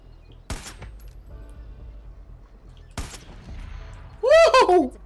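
Gunfire in the video game Far Cry 5: two sharp, isolated shots about two and a half seconds apart over a quiet game backdrop, followed by a brief burst of voice.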